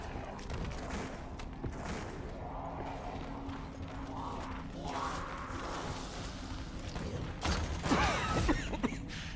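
A door mechanism grinds open in Call of Duty Black Ops 4 Zombies, a steady mechanical creaking and clanking that runs throughout at moderate volume, swelling louder near the end, with a voice talking faintly underneath.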